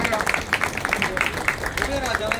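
Guests at a 45th wedding anniversary clapping to welcome women, a scattered, steady patter of applause from a small crowd, partly masked by people talking over it.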